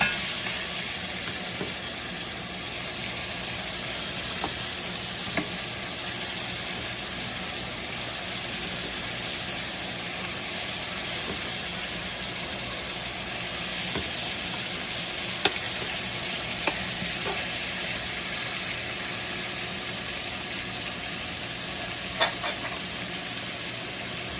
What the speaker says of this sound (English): searing it a little bit. Letting it outside brown just a little bit.